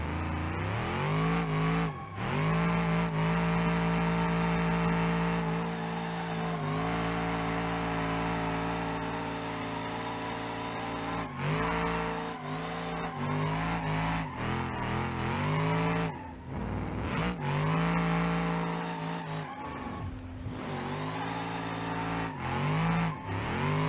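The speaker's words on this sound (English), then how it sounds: "But I think now is where we light the tires up." A car in BeamNG.Drive holds a sustained, roaring burnout, engine droning steadily with revving swells and dips, tires spinning continuously for a long, loud stretch.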